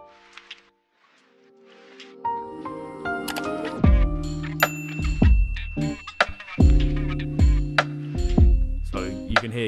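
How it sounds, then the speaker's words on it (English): A dry band mix in Logic Pro without effects, plucked guitar notes and punchy low drum hits with clashing low end in a steady rhythm, building after a quiet start. "here's what that sounds like without all the effects in the mix"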